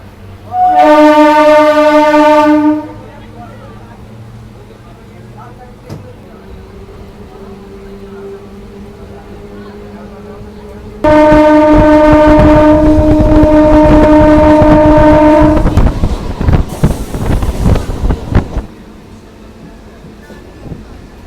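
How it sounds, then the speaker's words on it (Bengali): A Kharagpur to Digha local train departs Kanthi station. Two loud horn blasts, one short and one longer, sound over rumbling wheels and clattering cars that carry on between and after them. "কাঁথি থেকে আমাদের ট্রেন ছেড়ে দিয়েছে"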